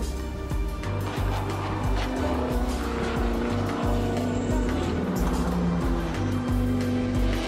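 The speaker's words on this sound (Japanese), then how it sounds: "早朝の静寂をマシンが切り裂き、エキゾーストが静かな村にこだまする。" Race cars roar past in the early morning at the 2010 Nürburgring 24 Hours, their engines and exhaust a loud, continuous drone that swells and fades as each machine passes, with occasional higher revs.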